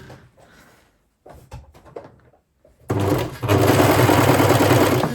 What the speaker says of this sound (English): As you can see, the blade's cutting the fabric here, and that's going to fall into the trim trap collector.